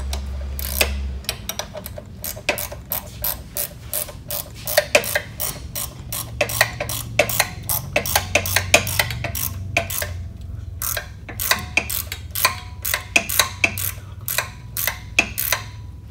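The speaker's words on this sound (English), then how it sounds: "And we're going to screw the bolt, we're gonna screw it out towards the top." Tensioning bolt on a Mud Buddy outboard motor being turned out with a tool, giving a steady run of sharp ratcheting clicks, close and fairly loud, over a low hum.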